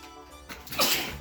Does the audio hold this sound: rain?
no